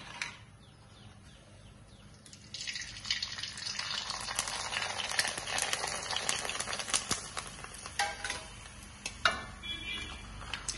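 Homemade rice papadum fries in hot oil, a quiet start swelling after a couple of seconds into dense, crackling sizzle and popping, close and steady with no talk.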